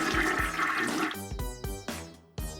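A toilet flushes in a Roblox Skibidi Toilet game, a rushing gurgle of water followed by a run of rhythmic, sharp, punchy game sounds. The flush is close and loud, with no talk over it.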